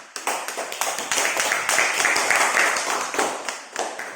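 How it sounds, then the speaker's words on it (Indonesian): Classroom of students clapping for the rainbow group, a quick burst of fairly close, irregular handclaps that keeps a lively rhythm for a few seconds before trailing off. "Tepuk tangan untuk kelompok pelangi."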